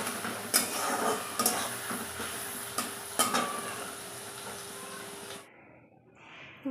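Chopped garlic and onion fry lightly in a pan for a tadka, giving a steady broadband sizzle broken by a few sharp stirring clinks, before the sound drops away near the end.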